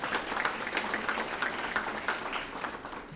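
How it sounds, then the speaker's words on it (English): Audience applause for students at an elementary school awards ceremony, a steady wash of many hands clapping in a hall that holds at a fairly even level throughout, with no talk over it. "Let's give them a round of applause."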